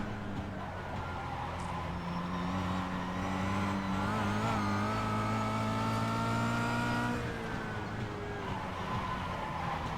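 A Kia Cup race car at the Zolder circuit runs its engine hard, a steady loud drone with a rising pitch as it accelerates, steadying then dropping off near the end, heard alone from onboard.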